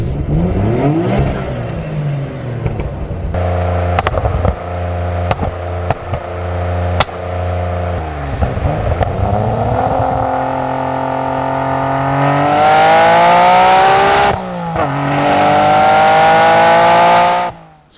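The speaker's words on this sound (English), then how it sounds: "you can listen to some revving I did the other" A Nissan Skyline GTR engine revs hard and close, with repeated sharp throttle blips and rising, falling pitch, then long loud sustained revs near the end and no talking.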